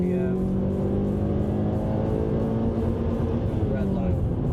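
A 2008 Mazda3 hatchback's 2.3-litre four-cylinder engine revved at wide-open throttle in second gear: a loud, steady, buzzing drone that climbs in pitch through the clip, heard close with no talk over it.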